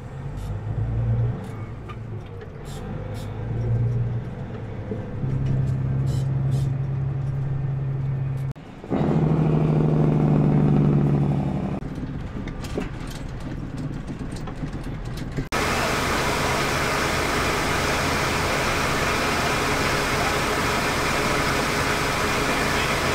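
A white truck's engine runs and pulls away, a steady low rumble that swells as it drives off, followed by a broad, even roar of motor and road noise.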